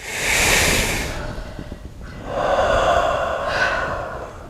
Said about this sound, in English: Hands down, take a nice deep breath.